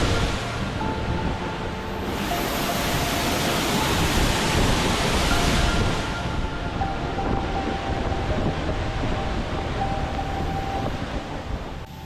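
A continuous roar of a waterfall in the Issaquah Alps, Washington, fills the scene, broad and steady, with gusts of wind buffeting the microphone over it.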